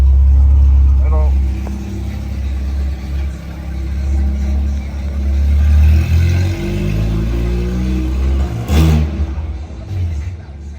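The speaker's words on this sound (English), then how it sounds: "he's going to go take this thing to the exhaust shop to get the exhaust put on it, so it's not open header like it is now" A car engine with an open header exhaust and no muffler revs loudly and up close, its deep rumble steady throughout with a sharp burst near the end.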